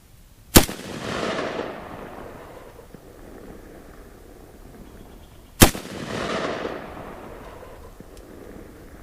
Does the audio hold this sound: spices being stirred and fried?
no